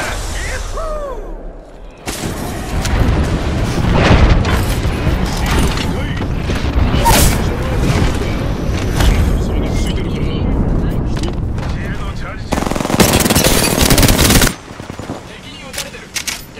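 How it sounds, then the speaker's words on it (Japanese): Dense, loud video game combat from Apex Legends: rapid automatic gunfire and booming airstrike explosions pound continuously, with a heavy barrage near the end and a character's voice speaking over the chaos. "空爆を要請。"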